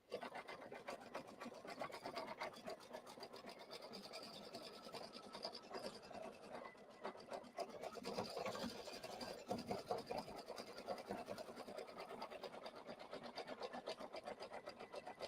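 Digital embroidery machine stitching a design, a fast continuous mechanical chatter of needle strokes, faint but steady throughout with no talk.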